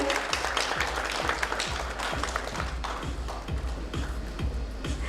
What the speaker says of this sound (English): Let's have a round of applause for both of them